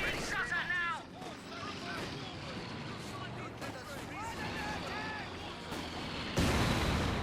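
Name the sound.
mortar round landing in Company of Heroes 2 video game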